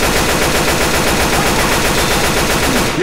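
Sustained rapid automatic gunfire from a teammate in Left 4 Dead 2, loud and dense, an unbroken burst of shots filling the whole moment.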